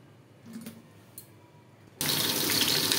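Potatoes dropped into hot oil in a pan: after quiet, faint clinks, a sudden loud hiss of frying bursts in and holds steady and close until the end, with no talking.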